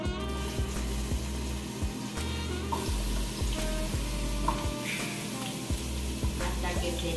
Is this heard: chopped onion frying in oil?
yes